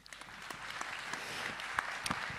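Brief, fairly faint applause from an audience at a French technology talk, scattered claps over a low room murmur lasting a couple of seconds.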